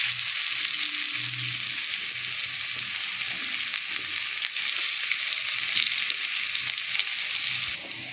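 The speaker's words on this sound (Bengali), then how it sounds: "তো বন্ধুরা আমার পেঁয়াজটা ভাজা হয়ে গেছে" Onion fries in a pan with nigella seeds, a loud continuous hiss and crackle of hot oil close by, broken by a few soft stirring sounds, no voices.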